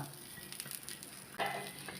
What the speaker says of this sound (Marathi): कांदा भाजून घेते थोडा